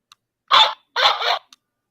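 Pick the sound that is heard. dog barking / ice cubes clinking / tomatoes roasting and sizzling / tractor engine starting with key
dog barking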